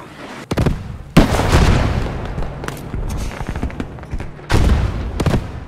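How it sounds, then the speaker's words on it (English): Bursts of heavy gunfire and explosive impacts from enemy mortar fire in the World War II shooter Squad 44, with loud thumps at the start, around one second and near four and a half seconds, and scattered shots between them. "We really have to do something with the enemy mortar."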